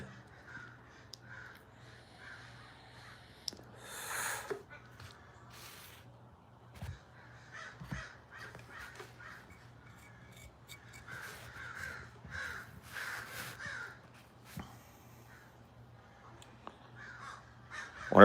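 Crows cawing on and off, several birds calling in scattered bursts, some nearer and louder, others distant, over a low steady background hum.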